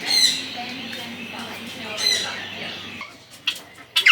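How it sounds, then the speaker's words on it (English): Birds squawk in an aviary at Bird World, harsh calls bursting out several times at close range over a steady background murmur. "Look at all the birds in here."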